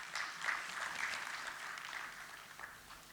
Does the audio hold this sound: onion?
no